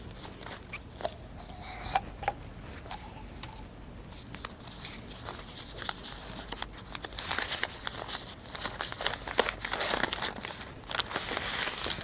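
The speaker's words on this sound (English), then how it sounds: "We use oil paper to wrap it up." Oil paper wrapping around a fuel injector valve assembly crinkles and crackles close by in fits and bursts, growing denser and louder toward the end, with no talking.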